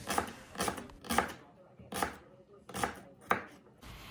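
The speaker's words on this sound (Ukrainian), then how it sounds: "Цибулю почистили, помили і теж нарізаємо як можна найдрібнішими кубиками." A knife finely dices onion on a board in quick bursts of several strokes, separated by short pauses, close and fairly quiet.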